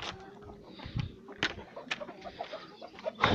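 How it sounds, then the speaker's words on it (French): Small group of three hens clucking close by at a farmyard, scattered short clucks and calls with quiet gaps between them. "Voilà les 3 petites poules."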